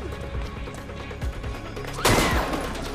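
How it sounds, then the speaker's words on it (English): A sharp, loud gunshot fired at police rings out about two-thirds of the way through, following a tense stretch of shuffling and scuffling in an alley during an armed robbery scene. "shot fired at the police"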